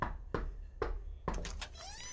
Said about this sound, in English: Oh, somebody's knocking.